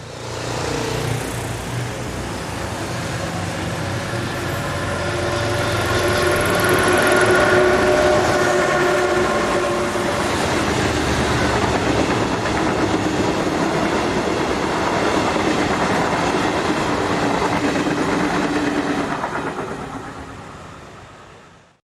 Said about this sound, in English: Here, 656099 heads north on one of the hourly trains along this popular holiday coast.